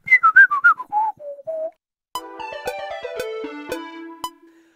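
An airy, ocarina-like lead synth from a reconstruction of a song sings a sliding, whistle-toned phrase, pauses briefly, then returns with a busier run of sharp plucked notes, all clear and upfront.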